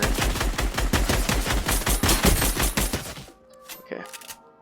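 Rapid SMG fire in a video game: a loud, steady automatic burst of evenly spaced shots that stops abruptly, followed by a few softer clicks and a brief tail.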